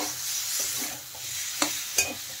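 Cauliflower florets stir-fried with spices in a pan for a Bengali potato-cauliflower fish curry, giving a steady close sizzle with two sharp scraping clinks of a spatula near the end.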